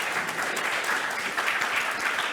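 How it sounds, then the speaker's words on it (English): A conference audience applauds a panel in steady, continuous clapping from many people, moderately loud throughout the short stretch. "please, a warm applause for this wonderful panel"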